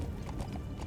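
Horse galloping past in a dark video game scene, quick muffled hoofbeats clip-clopping close by for under a second.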